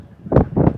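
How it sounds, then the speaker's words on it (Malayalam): Wind gusts blow hard against the microphone outdoors in Nainital, two heavy buffeting rumbles close together, loud and muffled, with no talking. "ഇത്രയും ഞാൻ തൊപ്പി വെച്ചേക്കുന്നത് കാറ്റടിച്ചിട്ട് ചെവി കാറ്റടിച്ച് കയറുവാണ്"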